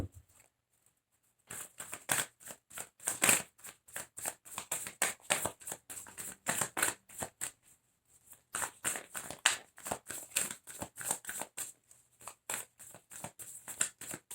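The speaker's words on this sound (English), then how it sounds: "Let me get some more cards before speaking on that." Tarot cards are shuffled and drawn in quick, dense bursts of crisp riffling and slapping, close and fairly loud, with a short pause near the start and another midway, and no talking over it.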